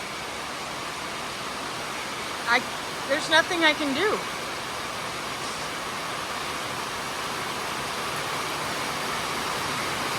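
Steady broadband rush of floodwater pouring into a building, about two inches deep, fills the scene continuously and close; a distressed voice speaks briefly over it early on.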